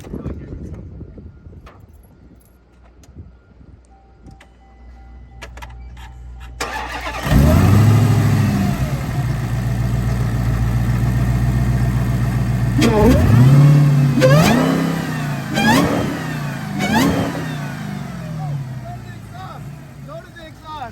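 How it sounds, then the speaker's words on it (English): A Hellcat engine starts and idles loudly up close, then the exhaust barks through several sharp revs that rise and fall. "Go to the exhaust. Hear that exhaust."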